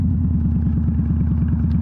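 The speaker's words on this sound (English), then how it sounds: "V-twin engines," A close, steady V-twin motorcycle engine rumbles with a deep, rhythmic, loping pulse, loud and unbroken throughout.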